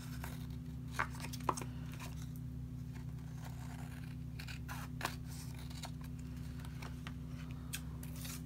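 Scissors snip through dictionary-page paper in a few distinct cuts, with sharp clicks near the start and middle over a steady low background hum; no talking.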